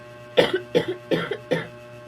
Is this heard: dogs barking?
no